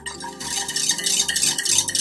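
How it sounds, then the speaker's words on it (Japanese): Caramel being stirred in a pot as it darkens for a pound cake, a steady scraping and swishing of utensil against the pan, fairly loud and continuous for about two seconds with no talking. "さらに混ぜ続けて好みの色まで持っていきます。"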